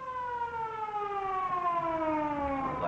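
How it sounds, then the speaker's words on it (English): Ambulance siren wailing from a distance in an old crime drama, a steady mournful tone slowly falling in pitch over a few seconds, heard alone without speech. "Sounds like an ambulance."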